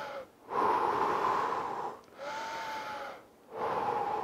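Three long, loud breaths, each a heavy in-and-out lasting over a second with short pauses between, taken close up during a rest break in a home fat-loss workout.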